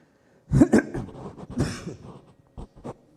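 Several harsh coughs in quick succession, close to the microphone, followed by a few quieter throat-clearing bursts.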